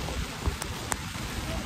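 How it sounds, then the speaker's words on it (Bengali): Wind-driven rain sweeps in under umbrellas at Juhu Beach, Mumbai, a steady close hiss with a few sharp drop taps on the fabric, quiet and short. "সামনে দিয়ে বৃষ্টি আসছে"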